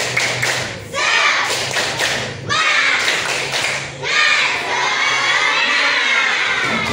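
Classroom students perform the tepuk semangat clapping chant together, rhythmic group claps and thumps mixed with loud children's shouting in repeated bursts, filling the room.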